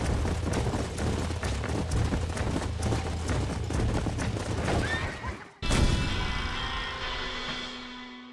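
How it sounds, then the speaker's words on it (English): Rapid hoofbeats clatter along with a horse's whinny in the video game Red Dead Redemption, then an abrupt cut leads to a sustained rushing noise, like a game scene in motion. "Let's see if we can't wrangle some horses."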